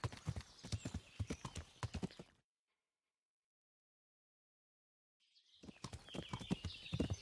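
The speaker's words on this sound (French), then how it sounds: "on va galoper comme des tarés" Rapid hoofbeats of a galloping horse in the video game Kingdom Come: Deliverance pound in a steady rhythm, cut off by a few seconds of total silence before the galloping resumes.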